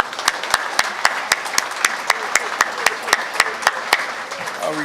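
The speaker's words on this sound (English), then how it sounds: "Let's give them a round of applause, please." Applause from an audience at a public works awards ceremony honoring awardees, mid-level in volume, with sharp, evenly spaced claps standing out over a softer crowd wash.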